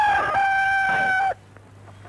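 A rooster crows loudly and close by in an old Hindi film scene, one long sustained call lasting over a second that stops abruptly and leaves a quiet hum.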